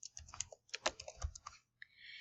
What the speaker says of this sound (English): So I'm typing my name